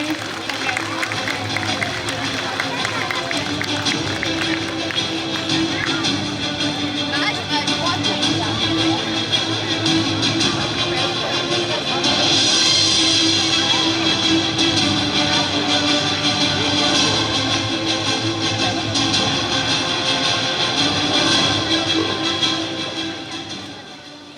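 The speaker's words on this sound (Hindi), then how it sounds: "तालियां बजती रहनी चाहिए" Audience clapping in an auditorium during a prize and certificate ceremony, a dense sustained round of applause with crowd murmur that swells around the middle and holds steady for over twenty seconds before tapering off.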